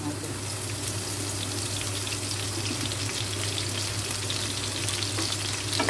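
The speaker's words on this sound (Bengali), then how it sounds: "এটা এখন এই যে সর্ষের তেল দিয়ে দেবো" Mustard oil hitting a pan with onion and chillies, giving a loud, steady, close sizzle that hisses without a break.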